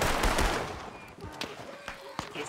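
Gunfire crackles during a shootout in the Diablo RP game, with a dense burst of shots up front, then scattered sharp cracks spaced out. A faint background voice can be heard.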